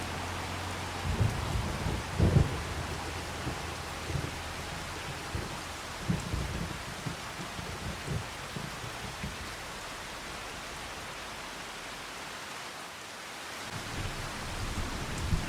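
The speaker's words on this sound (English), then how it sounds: "I think we're getting like the last final drops of rain coming down here." Steady rain falling in the video game Farming Simulator 25 on a Louisiana farm, a continuous hiss with a few soft low thumps early on, easing slightly near the end.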